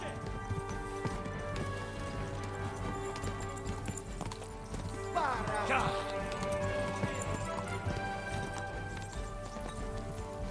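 A horse gallops in a video game with rapid, rhythmic clip-clop hoofbeats running steadily under game music and effects, with people talking over it.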